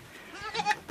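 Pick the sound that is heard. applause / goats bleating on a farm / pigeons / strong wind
goats bleating on a farm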